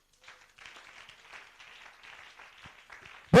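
A church congregation claps hands together, a soft, distant patter of many hands continuing steadily for a few seconds, ending in a loud close thump.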